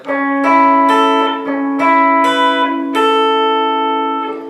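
Several picked electric guitar notes ring out in sequence over a sustained low note, each attack bright and the tones overlapping as they decay.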